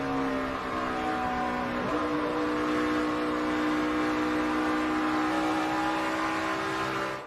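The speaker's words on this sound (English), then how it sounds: "You can hear how they really have to feather the throttle even with good tires on these." Race car engines at the 2010 Price Chopper 400 drone continuously, their pitch holding and wavering as the throttle is eased on and off, loud and sustained with no voices.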